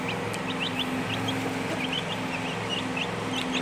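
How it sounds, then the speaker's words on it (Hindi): Aseel chicks chirp in short, high, repeated peeps over a steady low hum, with soft clucking from nearby fowl in a continuous, moderately quiet scene. "इस वीडियो में मैं आपको ये चिक्स दिखाऊंगा"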